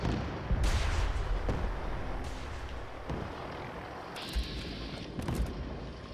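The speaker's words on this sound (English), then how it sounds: "Whoa, don't shoot that thing in here. I'm getting away from you and your indoor rocket launcher." A rocket launcher is fired indoors in Fallout 4: several heavy, booming blasts and deep rumbles, loud and close at first, then a few sharper bangs toward the end.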